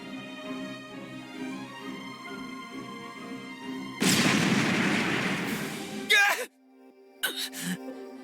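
Fire magic crystals exploding in a Re:Zero fantasy video game: after a sustained tonal hum, a sudden loud roaring blast rushes in and stays dense for two seconds, cuts off abruptly, then a few brief sharp bursts follow.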